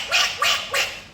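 A voice imitates a duck, giving three loud, nasal quacks in an even rhythm, close and with no other talk.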